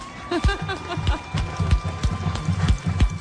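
Horses trot past in a Fourth of July parade in Napa, with rhythmic hoofbeats that are close and clear and sound under a lively crowd and people talking.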